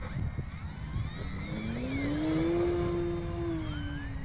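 A 1.5 m Maule M-7 RC model airplane's motor whines up for takeoff, its tone climbing and holding strong before easing slightly, set against steady outdoor background noise.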